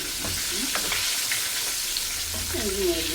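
Chicken pieces frying in hot oil give a steady, close sizzle with scattered crackles. Faint utensil stirring or turning sounds come through in places.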